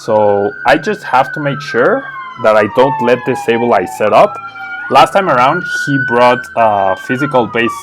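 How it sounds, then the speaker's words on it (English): Police sirens sound outside, a long steady wailing tone that rises and falls slowly, heard clearly beneath someone speaking continuously close by. "I'm really sorry about the sirens."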